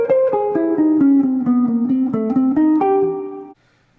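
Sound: jazz guitar line in a particular guitarist's style, chromatic approaches

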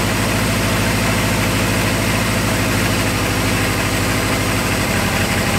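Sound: Kawasaki KZ650 motorcycle engine idling after carb sync

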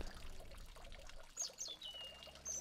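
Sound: water trickling or pouring outside on the street

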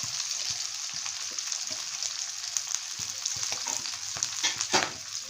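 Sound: onions frying and being stirred in a pan for chicken chilli

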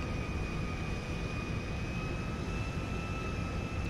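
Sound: Boeing 707 airliner taxiing to runway in GTA 5 video game

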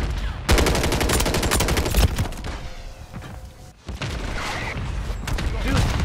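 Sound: gunfire in video game Modern Warfare 3

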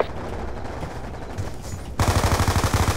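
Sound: gunfire in video game Call of Duty Black Ops 2

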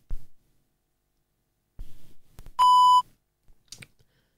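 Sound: Penfriend audio label reader power-on beep

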